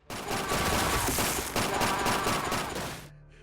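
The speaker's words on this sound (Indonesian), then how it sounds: "Jung-suk langsung bangkit dan membalas tembakan Han." Sustained automatic gunfire in a film scene, a dense, loud stream of rapid shots with a brief dip midway, cutting off abruptly near the end.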